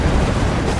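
A mortar strike explosion from the video game Command and Conquer Generals Zero Hour: a short, dense, loud blast that fills the whole moment with rumbling, crackling noise and no pause.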